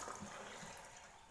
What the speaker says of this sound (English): And just rinsing that.